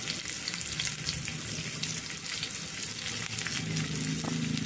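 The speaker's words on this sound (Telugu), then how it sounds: "ఆయిల్ హీట్ అయ్యాక ఒక పెద్ద సైజు ఆనియన్ కట్ చేసుకొని వేసుకోవాలి." Chopped large onion fries in about three tablespoons of hot oil in a pan, making a dense, steady close-up sizzle with no talking.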